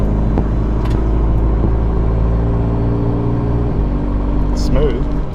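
A roughly 400-horsepower car fitted with an extreme valve body shift kit, its engine a loud, steady low drone close by with a brief pitch dip as a gear changes, while people talk over it.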